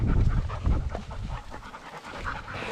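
Hunting dogs pant heavily after a pheasant hunt, with quick, steady breaths close by and no talking.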